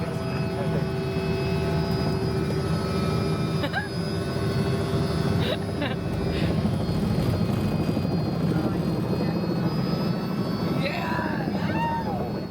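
Helicopter flying over Destin, Florida, its rotor and engine drone loud and constant from inside the cabin, with faint voices and brief chirps over the roar.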